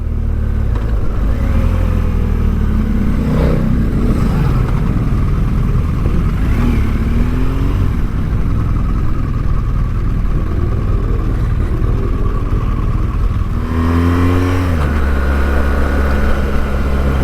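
Police motorcycles of the North Wales Police riding off, engines revving and droning steadily at mid pitch, loud and close, with a rising surge of acceleration near the end.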